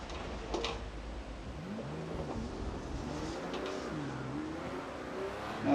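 Race car engine in the Project CARS 2 game on a snowy track, revving and rising and falling in pitch as the rear slides without grip, steady and close with a faint squeal.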